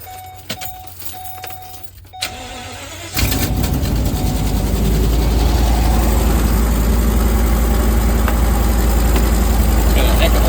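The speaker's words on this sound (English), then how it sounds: "Got a heck of a misfire." A car engine fitted with a new NGK spark plug cranks and catches after a jingle of keys, then runs at a loud, rough, uneven idle from a misfire, close up.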